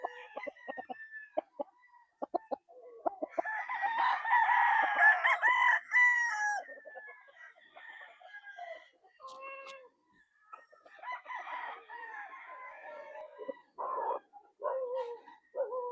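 A Boston Roundhead crossed with Machine Kelso gamefowl crows at a gamefarm, its loud drawn-out call rising in the middle, with more crowing, clucks and a barking dog around it and no talk.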